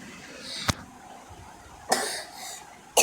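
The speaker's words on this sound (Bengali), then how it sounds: "আমার অনেক বেশি জোরে কাশি আসছে।" Three loud, sharp coughs from one person come at roughly one-second intervals over a low, murmuring background.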